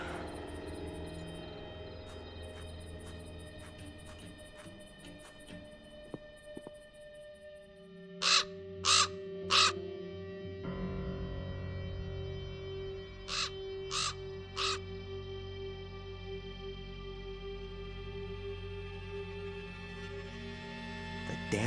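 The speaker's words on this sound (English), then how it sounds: "Damn bird again." A crow caws in bursts within the Black Mirror 2 adventure game: one cluster of about four harsh calls, then another group of three or four a few seconds later, standing out clearly over a steady ambient game backdrop.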